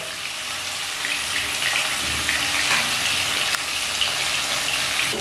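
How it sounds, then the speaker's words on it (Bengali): Rohu fish pieces fry in hot oil over a medium flame, giving a constant, bright, hissing sizzle that stays even and close throughout, with no voices. "ফ্লেম মিডিয়ামে রেখে মাছগুলো প্রথমে এপিট ওপিট একটু গোল্ডেন ব্রাউন করে ভেজে নিচ্ছি।"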